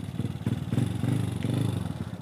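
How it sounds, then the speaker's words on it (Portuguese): A Titan 160 motorcycle fitted with an 8mm injection kit runs close up, its engine throbbing in a fast, steady pulsing rhythm with rattly mechanical clatter and no voices. "Tão forte que tá a moto, bicho, você acredita?"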